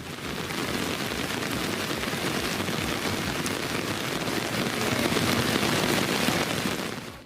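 Heavy rain pours down steadily in a dense, continuous hiss of drops hitting surfaces. It is loud and close, swells slightly toward the end, and has no voices over it.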